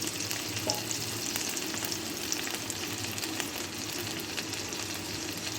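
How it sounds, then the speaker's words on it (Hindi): A tablespoon of butter with a little oil melting in a frying pan, giving a continuous soft sizzle and fizz with faint crackles, steady and close, with no talking. "जैसे ही मेरा मक्खन मेल्ट होगा"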